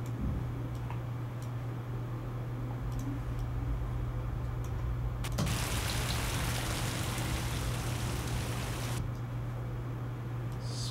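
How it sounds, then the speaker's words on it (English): Rain sound effect in a sound design mix: a soft, steady patter of rain that swells into a louder, denser wash of high-end rain for a few seconds midway, then drops back to the quieter bed. "So I might end up taking my rain and just slightly backing it off"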